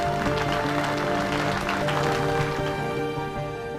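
An audience claps to welcome actor Kunal Kapoor onstage, a dense, continuous burst of applause mixed with crowd noise and music that holds steady for several seconds before easing slightly at the end.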